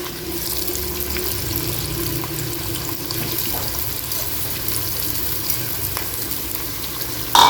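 Onion, scallion, garlic and sweet pepper fry in a pot for ackee and saltfish, giving a steady, close hiss and crackle of sizzling that runs unbroken throughout with no talk.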